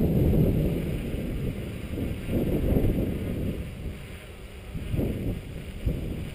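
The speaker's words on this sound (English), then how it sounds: "There's quite a strong wind." Strong wind buffets the microphone outdoors, a steady low roar with gusts swelling and easing over several seconds, alone without talk.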